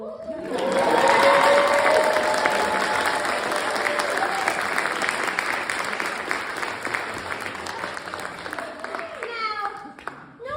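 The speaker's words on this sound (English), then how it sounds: "You may applaud under the Tinkerbell rules." Audience applause at a comedy club show fills the room, loud and sustained, then tapers off toward the end as the clapping thins out.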